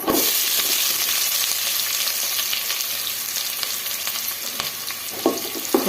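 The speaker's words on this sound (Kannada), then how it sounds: "ಚೆನ್ನಾಗಿ ಫ್ರೈ ಮಾಡ್ಕೊಳ್ಳೋಣ" Sliced onions sizzle steadily in hot oil in a pan while cooking for sambar, a continuous close frying hiss with occasional stirring clicks and no talking.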